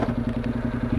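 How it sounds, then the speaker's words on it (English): A 2013 Honda NC700X motorcycle fitted with a new aftermarket exhaust, its engine putting out a steady, loud, rhythmic low thumping pulse, close up and alone. "the different sound it makes with the new exhaust on"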